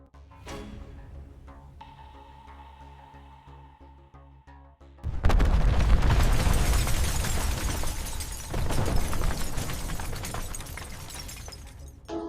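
A property is blown up in a film scene: after a quieter stretch of tonal music, a sharp blast hits midway and gives way to a loud, sustained roar of crashing, shattering debris, swelling again near the end, with no talk.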